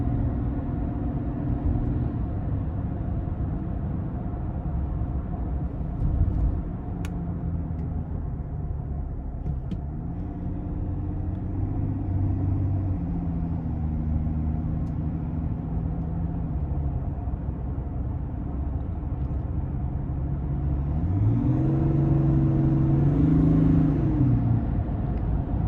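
A 2022 GMC Sierra 1500 Limited SLT Duramax diesel pickup pulls away under light throttle, its engine note stepping up through gear shifts with a steady cabin rumble, rising in pitch and loudness near the end.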